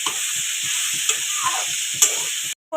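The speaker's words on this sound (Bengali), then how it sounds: "এটা ফোড়নে দিয়েছি গোটা গরম মশলা" Whole garam masala spices sizzle in hot oil as they temper, with a steady bright hiss under soft, rhythmic stirring taps, close up, then a sudden cutoff.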